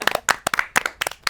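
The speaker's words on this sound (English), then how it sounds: "One more round of applause." Claps after a dance performance at a small talk-show event, a short run of distinct, close, sharp claps in an uneven rhythm, few hands rather than a full crowd.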